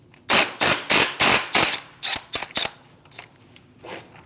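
A ratchet loosening 10mm intercooler bolts on a 2016-2025 Chevrolet Malibu 1.5L, with several loud rapid clicking bursts in a row, then sparser, quieter clicks trailing off, close up with no talk.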